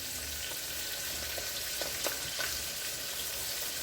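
Pork chops fry in a pan with a continuous soft sizzle and hiss, and a few faint pops and clinks from the pan come through.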